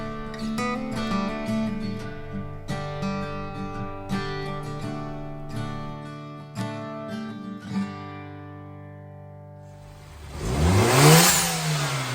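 A turbocharged R56 engine with its muffler deleted idles and revs in a few rising pulses, near and fairly loud, then a rushing whoosh as it revs higher at the end.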